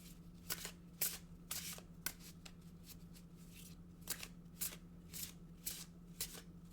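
Oracle cards being shuffled by hand, a quiet series of short riffling bursts in an uneven rhythm over a low steady hum.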